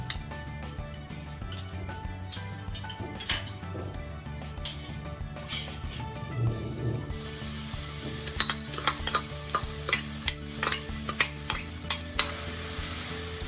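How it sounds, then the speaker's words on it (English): Chopped onion sizzling in three tablespoons of hot coconut oil in a pan, a steady frying hiss with clinks and scrapes of a spoon stirring, getting brighter and busier partway through, no talking. "Heat 3 tablespoon coconut oil in a pan and add chopped onion."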